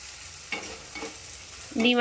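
Soaked dal being stirred in a frying pan, with soft scraping strokes and faint sizzling, ending in a louder burst of frying as more goes in; no voices.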